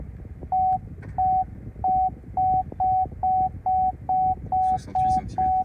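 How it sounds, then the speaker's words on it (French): Parking sensor beeps from an MG4 electric car, eleven short, evenly spaced tones repeating steadily and clearly over a low cabin hum, with no talking. "on va avoir les petits bips qui vont se mettre et la distance qui va s'afficher."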